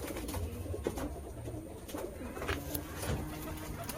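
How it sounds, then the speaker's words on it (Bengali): Male pigeons coo in soft, repeated rolling calls, quiet and fairly close, with faint background rustle and no talking. "এটা মাদি নয়, নর কবুতর"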